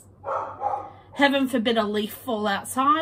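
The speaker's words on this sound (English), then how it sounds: "that's the dog going nuts" A dog barks and yips excitedly in a series of sharp, close barks, mostly clustered in the latter half, while a person talks at the same time.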